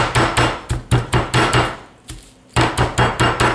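Rapid, heavy thuds of a meat mallet pounding chicken breasts flat on a cutting board, close and loud in quick bursts of strikes, with a short pause midway before the rhythm resumes.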